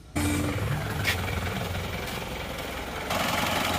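A 1994 car engine in normal condition, not yet overhauled, idles steadily with a continuous low rumble and even mechanical texture, slightly louder toward the end.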